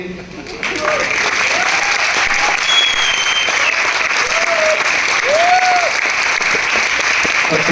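Sustained audience clapping at a Vestige business gathering fills the room, a dense even wash of hands after a brief quieter start, with a voice briefly audible over it.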